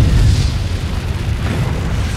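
Missiles strike a ship in the Fractured Space space-combat game, setting off a loud, heavy explosion boom that rolls on as a deep rumble for about two seconds.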